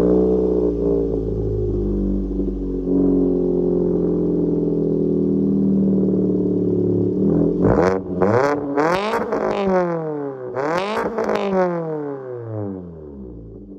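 A Fiat 500 with a 5-speed gearbox idles with a loud, throaty exhaust, then revs sharply several times in quick bursts, each climbing and falling back, close and prominent with no talking.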